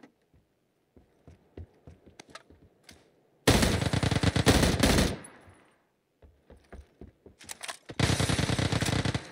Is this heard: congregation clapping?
no